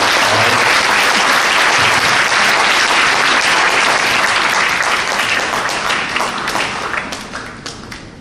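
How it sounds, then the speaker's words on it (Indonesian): Church audience at a Perkantas anniversary service breaks into loud, dense applause that carries evenly for about seven seconds, then thins into scattered claps as it fades out. "Kita berikan tepuk tangan dulu ya."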